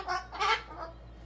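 A parrot screams in a home, giving harsh raspy squawks in a couple of short bursts, with the loudest cry in the middle and a fainter call after it, heard close over low background hum.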